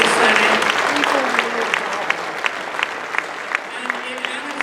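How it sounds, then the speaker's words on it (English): A charity auction crowd breaks into a round of applause that starts full and thins out, with scattered individual claps near the end of the brief burst. "how about a huge round of applause and lots of love and best wishes for a quick recovery to Anna Sani."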